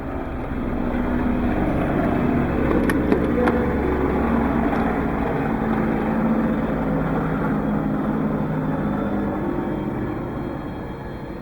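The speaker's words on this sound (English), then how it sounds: "I'll just wait for this helicopter to go by." A helicopter passes overhead as a steady, loud broadband rotor and engine drone lasting the whole stretch, with no talking.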